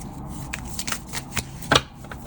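Tarot cards are shuffled in soft, uneven riffles and slaps, close by and quiet, with no talking.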